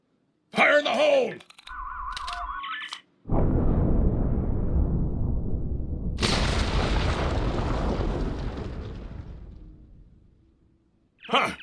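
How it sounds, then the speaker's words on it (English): Primed bombs detonating in Star Trek Online, a long, loud roaring explosion that swells into a second, brighter blast and rumbles for several seconds before fading, after a short spoken line and a brief electronic tone. "The bombs are primed to blow."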